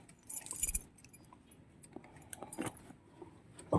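Car keys jangle in a few short metallic bursts near the start and again later, fairly close and moderately loud, alone without talk.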